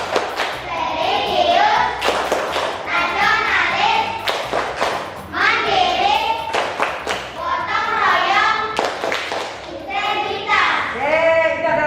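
A classroom of children claps in a quick, steady rhythm and chants together in a patterned group clap. Loud, close claps punctuate the shouted words throughout.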